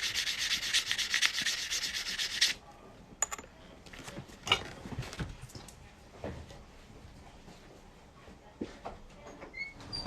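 Sanding or rubbing the cut edge of a coin ring to smooth it, a steady close abrasive scratching for about two and a half seconds, then scattered small taps and handling sounds.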